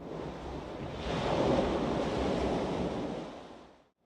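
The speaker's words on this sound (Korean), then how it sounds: "피노키오는 얼른 바닷속으로 뛰어들어 도망을 쳤습니다." Ocean waves surge in a broad, rushing wash that swells partway through and then fades out quickly at the end, with some wind noise and no talking.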